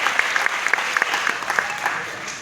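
An audience claps steadily to welcome a guest onto the stage at a Kannada cultural function. The applause is dense and sustained, with sharper individual claps standing out from the crowd.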